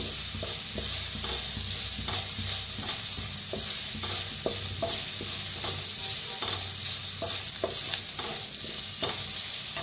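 Spices with turmeric are stir-fried for a vada pav potato filling, a loud continuous sizzle with rhythmic spatula scrapes and taps against the pan, close and steady with no talking.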